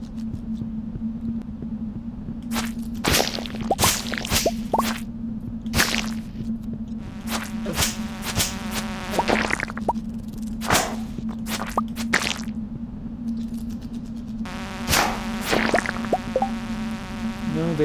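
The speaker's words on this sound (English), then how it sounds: "Die, little bugs, and give me your bug meat." Sharp whip-like swipes and hits from attacking bugs in the farming video game Stardew Valley, repeated in irregular bursts over a steady low game hum, with buzzing insect-like effects and no talk.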